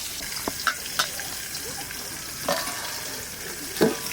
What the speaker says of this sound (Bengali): মাংসটা ভালো করে মাখায় নিচ্ছি, আনটা ঢাকা দিয়ে রাখবো